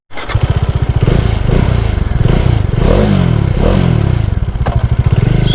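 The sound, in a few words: Bajaj Dominar motorcycle engine and exhaust running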